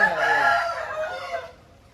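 A rooster gives a single loud, close crow that fades out near the end, with no talk over it.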